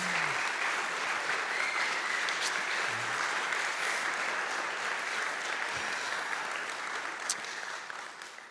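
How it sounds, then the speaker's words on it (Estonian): Sustained audience applause for young performers at a youth camp concert-service, a dense, steady wash of clapping throughout that eases slightly toward the end. "teeme teile veel ühe suure aplausi"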